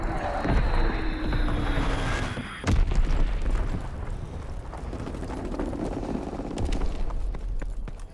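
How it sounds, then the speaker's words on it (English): An Azon bomb dropping and exploding in Call of Duty: WWII: a deep booming blast with rumbling debris, a sharp impact near the three-second mark, then sustained low rumble and a later secondary thump. "Dropping Azon bomb."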